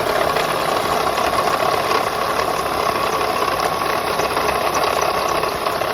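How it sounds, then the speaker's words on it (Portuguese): Audi A turbo engine with a faulty water pump runs at idle, giving a loud, steady drone with a continuous rattling, knocking undertone throughout, close up and with no voices. "barulho extremo no motor"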